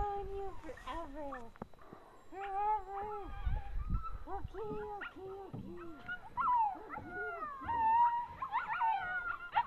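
Husky dog howling in a long, wavering series of rising and falling tones, close and loud, with whimpers and yips between howls and a person talking softly underneath.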